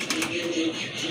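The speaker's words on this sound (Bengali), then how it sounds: "খুবই চমৎকার এক জোড়া কবুতর আছে।" A pair of pigeons coos softly in a short, low murmuring call, moderately close, with faint background noise around them.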